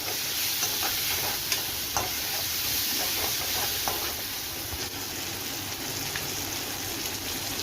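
Turmeric and onions sauté in a pan, a steady close sizzle with light stirring clicks running continuously with no talk.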